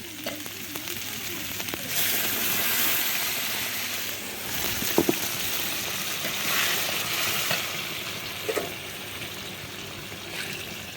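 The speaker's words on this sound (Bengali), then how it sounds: "এবার আমি জল দেব," Hot water is poured into a prawn curry that is frying in the pan, giving a broad hissing sizzle with brief splashes and light scraping, close and fairly loud, with no voices.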